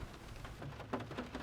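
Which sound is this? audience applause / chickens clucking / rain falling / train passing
rain falling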